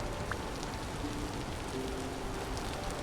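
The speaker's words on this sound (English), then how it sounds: "it is a rainy, stormy day out" Steady rain falls in Vintage Story, a dense, even hiss of drops on surfaces that stays constant throughout, with faint tonal hints underneath.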